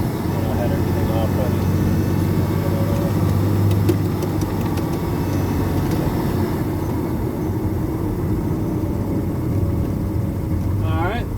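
A 2003 Porsche Boxster engine hums steadily at close range while gears are shifted, a low continuous drone with faint shifts in pitch, and a voice talks briefly over it.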